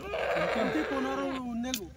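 A goat lets out a long, quavering bleat nearby, and a second shorter call follows as a voice runs underneath.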